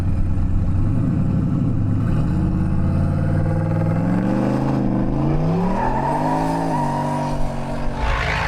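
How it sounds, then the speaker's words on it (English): A turbocharged 6-litre Russo-built V8 in a VS Ute with an external wastegate and Turbo 400 transmission, revving at a drag event; loud, close engine climbing steadily in pitch, sustained throughout. "Sebastian's VS Ute has a Russo-built 6-litre under the hood to handle some boost with the Turbo Smart external wastegate"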